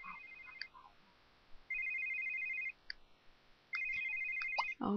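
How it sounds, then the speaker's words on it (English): A phone ringing in The Sims 3: a bright electronic ringtone sounds in repeated bursts with short pauses between them, fairly faint and alone. "Now whose phone is ringing?"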